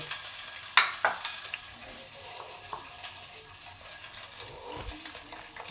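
Stuffed pieces fry gently in melted butter in a pan, a soft, low sizzle with a few light clinks and scrapes of stirring near the start.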